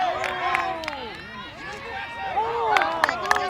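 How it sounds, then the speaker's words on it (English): High school basketball game crowd, Panthers versus Georgetown at Liberty Hill, a loud roaring hubbub with cheers and shouts rising and falling, sneaker squeaks popping through, and a commentator talking over it. "The intensity of this game moves up and you can hear the crowd"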